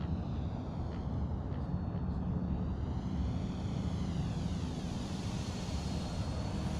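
A Flyzone DHC-2T Turbo Beaver RC plane, 1.5 m span, passes low and slow with a steady, quiet electric whine that shifts in pitch as it moves, under broad outdoor wind rumble.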